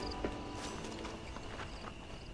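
Horse hooves clip-clopping at a walk in the Western video game Red Dead Redemption, a few soft hoof thuds set under steady ambient background noise.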